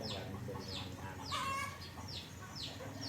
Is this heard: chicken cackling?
yes